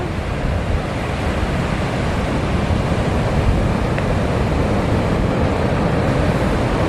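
Big surf breaks at a beach boat launch where boats push out through the waves, a loud continuous roar of crashing water with steady wind noise, no talking.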